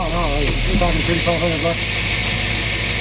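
A rebuilt 350 engine in a 1980 GMC van idles steadily with a low, constant rumble, while people talk over it through the first part of the clip.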